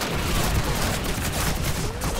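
Dense game gunfire from Call of Duty 2, a steady barrage of overlapping shots and rumbling blasts that fills the whole moment at an even, loud level with no pauses.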